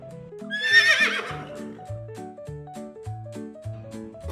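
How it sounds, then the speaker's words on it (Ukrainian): Horse gives one long, loud whinny near the start, then hooves clip-clop in an even rhythm over a light musical backing. "Це кінь. Так. Мама кобила, тато кінь, а дитина лоша."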